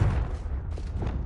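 Fire spell blast from Hogwarts Legacy: a short low boom with a rumbling, muffled burst that fills the brief moment, no talk.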